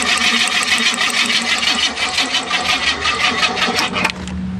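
A Ford Fairmont engine cranks over rapidly, with a fast, even rhythmic churning from the starter that stops abruptly near the end, loud and close with no voices.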